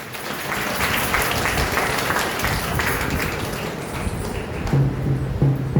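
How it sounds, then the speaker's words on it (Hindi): An audience at a school gathering claps loudly after a dance performance, the applause sustained and busy across the stretch, with a brief tonal sound appearing near the end. "मैं उनके लिए बहुत जोरदार ताली।"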